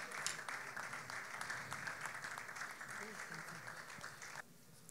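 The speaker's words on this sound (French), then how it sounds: "Pendant qu'ils rentrent, on peut les accompagner par des acclamations." An audience at a gospel collective's press launch applauds and cheers as the group walks in, a steady, fairly quiet spread of clapping with some voices, cutting off abruptly near the end.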